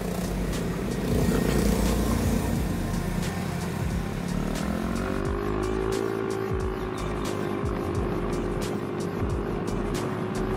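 A motorcycle rides along an open road, its engine droning steadily and loudly with wind rush, the pitch climbing midway as it accelerates, with no talking.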